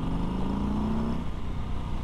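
A 2019 Harley-Davidson Street Bob motorcycle pulls under light throttle with a steady, loud low engine drone and a rising tone as it accelerates, heard alone with no talk.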